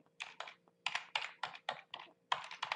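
Quick clusters of keystrokes on a computer keyboard, close and fairly quiet, tapping in short uneven bursts with no talking.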